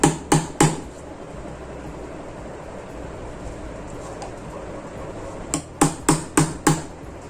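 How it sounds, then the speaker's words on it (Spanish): A hammer taps along the seam of a Samsung soundbar to loosen it: two sharp knocks at the start, a quiet gap, then a quick run of five evenly spaced raps near the end, close and crisp. "vamos a ir con este martillo golpeando a lo largo de la línea para que vaya despegando"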